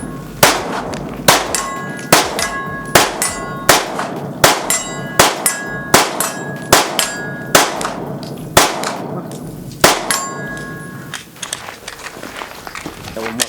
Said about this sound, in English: we're gonna do an accuracy test at 50 yards on a C-zone steel